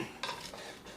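Onions stirred in a butter and oil mixture in a pan, a brief scrape of a utensil against the pan with soft sizzling, close and alone.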